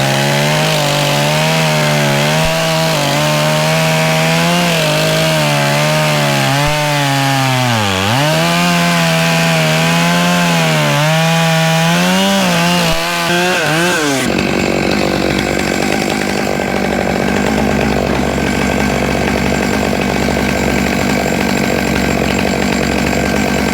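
Chainsaw running loud and close, its engine pitch rising and falling as it bites into wood for about fourteen seconds, then dropping to a steady lower idle rumble for the rest.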